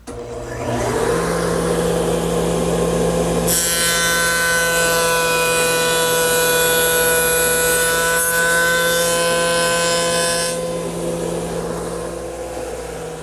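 A power tool cuts through the end grain of a board during furniture work. A loud, high, steady whine builds and holds for about ten seconds, then winds down, with no voices.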